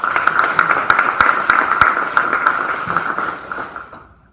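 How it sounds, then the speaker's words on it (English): Audience at a school board meeting applauding students, dense steady clapping from a room of people that fades out toward the end. "again, a round of applause for those students."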